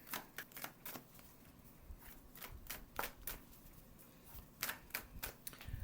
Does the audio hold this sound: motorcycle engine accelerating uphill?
no